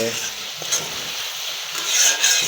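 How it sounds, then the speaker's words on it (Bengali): Spice masala being stir-fried in a pan for a tilapia and sarputi fish curry with potatoes, a close, steady scraping and soft sizzle with brief stirring knocks, no voices. "এখন কষানোর জন্য অপেক্ষা করব ঢেকে দিয়ে একটু সময় কষাই নেব মশলা কষানো হয়ে গেছে"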